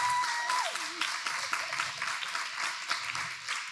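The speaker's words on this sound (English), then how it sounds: "Can we get a round of applause for that?" Guests at a restaurant panel event applaud the chef and kitchen team, a fairly faint, steady patter of clapping from a small crowd.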